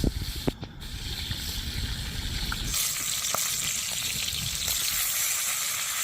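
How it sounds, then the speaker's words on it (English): Steak searing in a hot pan gives a steady, close frying sizzle and hiss that runs throughout, with a brief clatter near the start. "we're getting the sear on the steak now"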